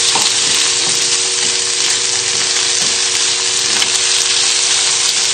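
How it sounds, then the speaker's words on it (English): Sausages and chilli pesto sizzle and fry steadily in a pan while a utensil stirs them, with faint scraping strokes recurring under the constant hiss; no one speaks. "So just give the pesto a stir in with the sausages."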